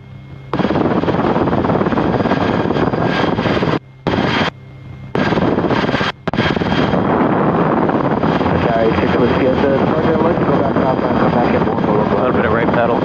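A Rotorway helicopter in flight produces a loud, steady engine and rotor drone that fills the whole clip, broken by a few brief dropouts, with radio voices mixed into the noise.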